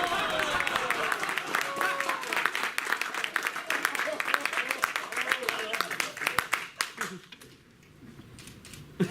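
Audience applause at a furry convention concert post-show, a dense burst of clapping from a crowd that thins into scattered claps and fades out near the end.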